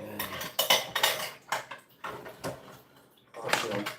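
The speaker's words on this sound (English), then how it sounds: "Do some dishes here" Dishes and cutlery clatter in a home kitchen in several separate bursts, with plates and utensils clinking and knocking nearby, separated by short quiet gaps and no speech.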